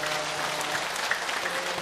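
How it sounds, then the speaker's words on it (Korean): A steady wash of clapping from a large church congregation on Easter, continuous and even, with no voices standing out. "다시 한번 우리 부활하신 예수님께 감사와 영광의 박수를 올려드리겠습니다"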